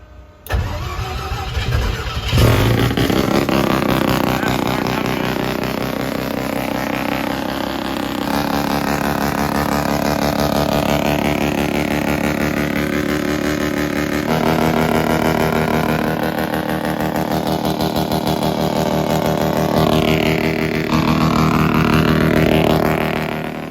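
A loud race car engine runs nonstop during a burnout, a dense roar with rising and falling revs, sudden pitch shifts and sweeping changes of tone, close and alone throughout.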